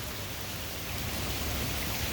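Evening rain pours steadily with water flooding everywhere and overfilling a street grate, a constant, dense hiss with no breaks or voices.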